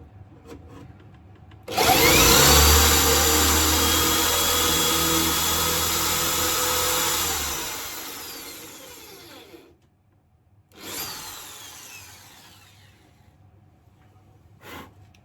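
An electric drill bores dowel holes into wood for a model railway layout, whining steadily for about six seconds, then stopping before a second short burst, with no talking.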